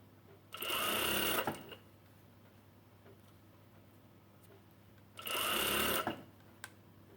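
A sewing machine stitches round the neckband of a knit top in two bursts of about a second each, a loud, close, rapid whirring and rattling, with quiet handling noises and a faint click between them.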